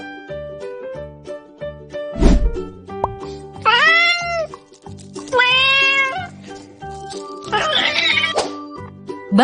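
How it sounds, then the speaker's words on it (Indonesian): A cat meows three times, each a loud, drawn-out, close cry with rising and falling pitch, spaced a couple of seconds apart over light background music, with a thump early on. "Kucing."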